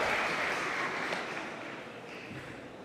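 Steady, dense applause from the audience at a Model UN opening ceremony, a close wash of many hands clapping together that eases off slightly toward the end, with no voices over it.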